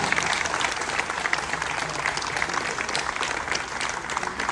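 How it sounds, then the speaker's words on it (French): Steady, enthusiastic applause from a crowd at a winegrowers' event, continuous and fairly loud throughout with no pauses. "On peut applaudir chaleureusement."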